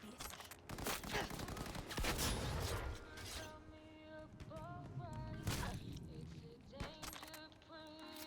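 Gunfire in the futuristic shooter Cyberpunk 2077 crackles as dense bursts and scattered single shots, mixed with mechanical clicks and game effects, loud and close, with a voice speaking in between.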